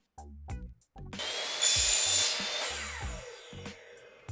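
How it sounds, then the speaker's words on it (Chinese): A 50 mm water pipe is sawn into short sections with a power saw. Several short knocks lead into a loud, steady rasp of cutting that runs for a few seconds, then ends with light taps and handling. "50水管锯出3段10厘米左右的长度。"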